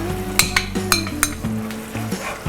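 Prawns drop into a bubbling, frying masala for a dahi prawn dish, setting off a steady sizzle, with a few sharp metallic clinks from the utensil and pan close by.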